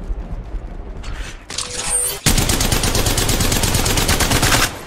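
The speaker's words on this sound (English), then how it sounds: "Reloading." Weapon reload from the mobile video game Apex Legends Mobile: quick mechanical clicks and clacks, then a loud rapid automatic burst, with no talking.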